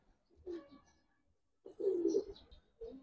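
Soft low cooing of Giribaz pigeons nearby in a few separate bursts, with quiet pauses between the throaty calls.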